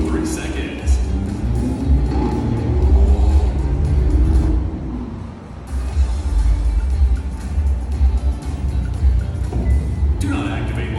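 A Hyundai N sports car launching hard under launch control, a loud low engine rumble building and holding steady, with a brief dip midway before surging again, under a voice speaking.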